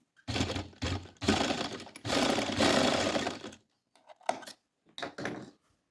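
A sewing machine stitches a corner of a chalk daman garment in short bursts, whirring loudly for several seconds at a time, then making brief quieter runs and pauses.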